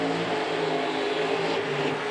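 Engine noise from a drag racing car making a run in a Sweet 16 2.0 event, a steady loud roar with layered harmonics held throughout, no voices.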